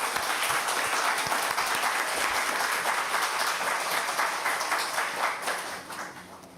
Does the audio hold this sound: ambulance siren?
no